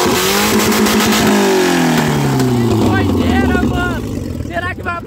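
A car with a 2.0 engine revs loud and close, its pitch sweeping down and then rising in quick bursts as it pulls away, with excited voices shouting over it.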